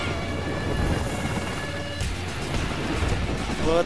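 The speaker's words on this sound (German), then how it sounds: "Scheiß Heli, Alter." A helicopter in the video game Battlefield Hardline drones on with a steady rotor roar and engine whine, loud and close, while game effects shift the sound partway through.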